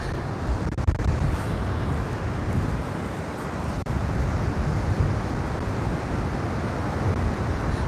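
Strong wind on a beach at Can Pastilla, Majorca, roaring steadily and close into the microphone with a dense, unbroken rush and no clear pauses or voices.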